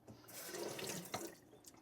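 Water runs from a tap to dilute diamond slurry on a Nakayama Maruka Japanese natural honing stone, a soft, steady splashing rush lasting under two seconds, faint and close with no talking.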